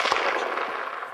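A single loud rifle gunshot fired at a moose during an Alaska Yukon moose hunt, a sharp close crack with a decaying outdoor echo.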